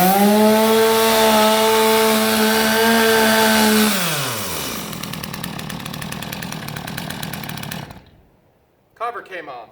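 Stihl chainsaw running loud and close, engine note holding steady and then dropping as it winds down, followed by silence and a brief clatter.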